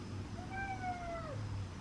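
A house cat gives one drawn-out, rising-then-falling meow, close and clear, over a low steady background hum, excited for a late-night snack.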